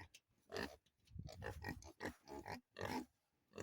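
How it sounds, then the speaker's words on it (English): Pigs grunting on a farm, with a pregnant sow among them, in a series of short, closely spaced grunts and snorts at close range, with brief pauses between bursts. "So if anybody knows what kind of pigs we have, let us know."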